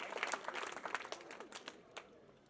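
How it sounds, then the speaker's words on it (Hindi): Faint, distant applause at a school annual function: scattered claps that build briefly and then thin out into a few isolated hand claps. "जोरदार तालियों से आप इनका भी स्वागत और अभिनंदन करें।"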